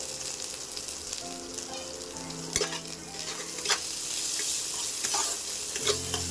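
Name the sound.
onions and asafoetida frying and being stirred in pan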